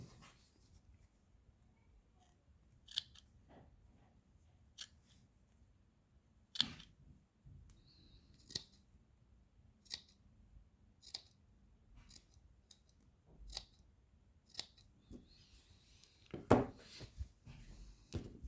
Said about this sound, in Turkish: Sağ tarafta makas. Olmazsa olmaz. Gerçekten güzel bir makas. Ben deneyelim. Bizim kumaşta.